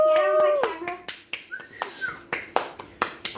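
Hand clapping in a casual indoor setting: a series of sharp, fairly close claps in an uneven rhythm, mixed with a voice and brief vocal sounds at the start.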